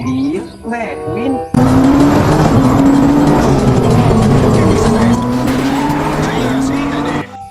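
A Redwing toy race car plays a loud recorded skid: screeching tire squeal over a roaring engine, sustained for about six seconds after a brief lead-in of quieter sounds.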